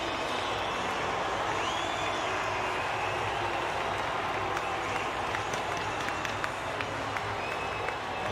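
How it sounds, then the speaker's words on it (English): A large stadium crowd at an NRL rugby league match between the Dragons and the Bulldogs cheers and roars continuously as a team enters, a dense, steady wall of noise with no clear talk over it. "There'll be a big cheer as well."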